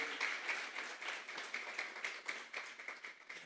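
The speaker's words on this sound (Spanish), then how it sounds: "Vamos a darle una ofrenda de palmas a Dios en esta hora." A church congregation claps together during a Sunday service as an offering to God, a steady crackle of many hands at moderate distance with no voices over it.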